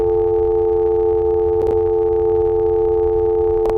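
Annoying phone ringtone made of steady sustained electronic tones, loud and continuous, with two brief clicks breaking in partway through and again near the end.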